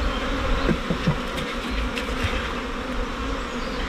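Honey bees buzz steadily and densely around an open hive during a colony inspection, a continuous close drone with a few louder passes as individual bees fly near.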